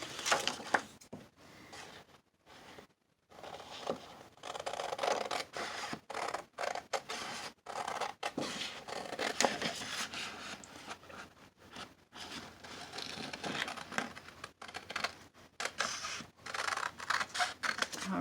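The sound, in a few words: scissors cutting out paper for an Easter card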